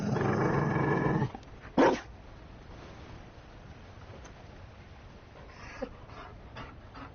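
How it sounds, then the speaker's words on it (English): A mabari war dog in the video game Dragon Age Inquisition growls loudly and close for about a second, gives one sharp bark, then only faint low background sound and a small soft noise follow. "You found a dog?"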